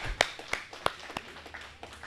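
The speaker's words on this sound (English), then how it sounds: "give him applause" A few scattered, sparse claps from a small audience at a local political rally, faint and distinct, about six or seven separate hand claps spread irregularly across the moment.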